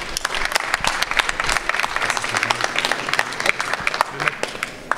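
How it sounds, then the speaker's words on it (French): An audience applauding at a project-pitch event in Dunkerque, many hands clapping briskly and continuously at close range, with some murmuring voices underneath. "Vous pouvez l'applaudir."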